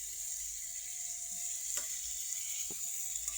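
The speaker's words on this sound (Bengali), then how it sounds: "মশলা কষালাম, কারণ মশলার থেকে তেল বের হয়" Spices sautéing in ghee for butter chicken, a steady close sizzle throughout with a couple of faint stirring knocks.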